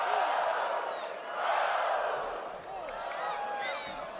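A large arena crowd at a televised wrestling event roars and cheers continuously, with a voice talking over the sustained swell of noise.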